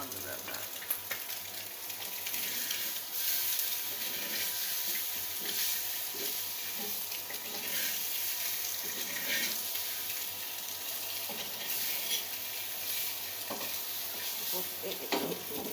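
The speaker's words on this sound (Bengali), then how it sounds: "অল্প তেলে ভাজছি।" Boiled potatoes frying in a small amount of oil, a steady close sizzle with stirring scrapes throughout, and faint talk now and then.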